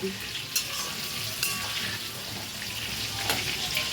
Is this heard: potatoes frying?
yes